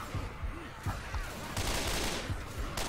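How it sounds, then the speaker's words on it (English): Rapid gunfire from a video game shooting match, repeated sharp bursts at an even rhythm under a steady game soundscape, with a louder spray of shots near the end. "I shot you, Korn."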